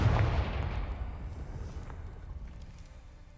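A Confringo spell blast from Hogwarts Legacy, a single heavy booming burst at the start that rolls off into a long, decaying rumble with no other sounds over it.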